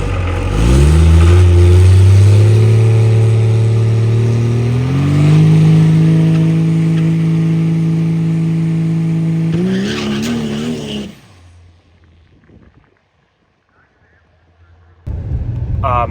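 A diesel race truck makes a drag racing pass, its engine roaring loud and close and rising through the gears before it cuts out. A short quiet gap follows, then the roar returns.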